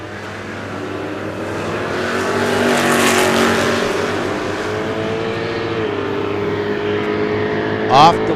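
Drag race cars, a Mustang and a 540-cubic-inch Chevy, launch at the ANRA season finals with a sustained engine roar. The roar swells and then eases as they pull away, with a voice heard over it.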